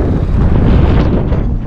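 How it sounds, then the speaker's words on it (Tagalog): Strong wind buffets the microphone outdoors, making a loud, continuous low rumble for a short stretch with no voices. "Lakas ang hangin."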